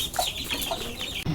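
A chicken at a village home clucks in a few quick, close bursts over a short span, with no talking.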